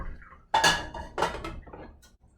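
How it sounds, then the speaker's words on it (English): Canned peas, carrots and broccoli being drained in a kitchen, with a few clattering metal and dish knocks from the can and strainer, loud and close, then quieter rattles. "Also gonna drain these peas and carrots and broccoli."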